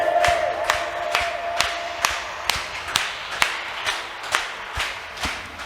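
A worship congregation claps together in a steady rhythm, about two sharp claps per second, with a sustained sung or held tone at the start and crowd ambience underneath.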